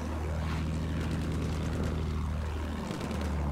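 Droning aircraft engines from World War I planes overhead in a video game battle at Zeebrugge, a loud, steady propeller roar with a heavy low hum that dips briefly before swelling again.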